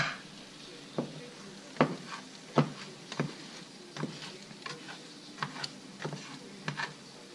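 Eggs being scrambled in a pan with breakfast sausage for a creamy breakfast scramble, a spatula scraping and tapping in irregular strokes over a faint steady sizzle, close and alone.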